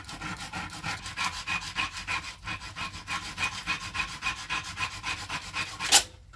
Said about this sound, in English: I'm just gonna butt the ring up and sand it